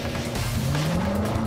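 A Corvette C7 Final Edition launches hard from a standing start, its engine note climbing steadily in pitch as it pulls away, with a rough tire-scrabbling edge in the first moment and no voices.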